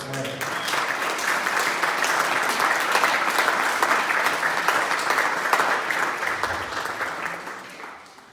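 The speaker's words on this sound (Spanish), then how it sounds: "¿Cuántos dan un aplauso al Señor?" Church congregation applauding the Lord during a Spanish-language sermon, a dense sustained wave of clapping that swells steadily and fades out near the end, loud and close with no speech over it.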